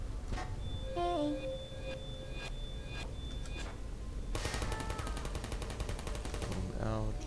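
In the video game Portal, a turret opens up with a rapid, sustained burst of automatic fire. Earlier there are scattered electronic chirps and beeps, and another short electronic warble comes near the end.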